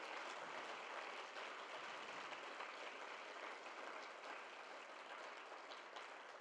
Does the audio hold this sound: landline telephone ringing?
no